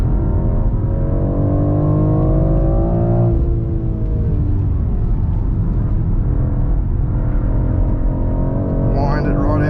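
A 2023 BMW X4 M Competition held in third gear, its engine note climbing steadily as it winds out through a corner at the Nurburgring, a loud rising rumble inside the cabin with a brief dip and recovery.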